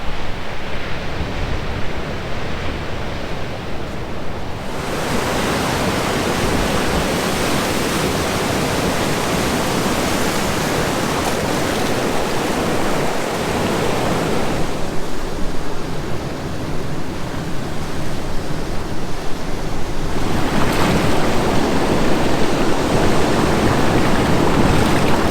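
Ocean surf breaking continuously at Redgate Beach near Margaret River, a loud, steady wash of waves swelling and easing in broad surges with no voices.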